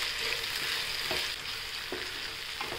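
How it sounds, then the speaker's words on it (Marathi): Cabbage and peas being sautéed in a pan for a vegetable puffed-rice snack, a steady frying hiss punctuated by a few soft stirring scrapes, near and without voices. "वाटाणे घेतले, मटर घेतले ते टाकूया आणि छान परतून घेऊया।"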